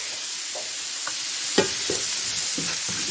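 Jalapenos and fresh garlic stirred into sautéing onion, celery and bell pepper for chili, with a steady close sizzle and a few soft spoon scrapes and one sharper knock against the pot.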